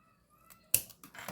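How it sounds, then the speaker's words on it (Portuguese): Scissors cut through fabric close to a sewn seam while a handmade cloth bag is put together: one crisp, near snip, followed a moment later by a softer rustle of material, alone with no talk. "Então, vou cortar rente à costura, mas não muito."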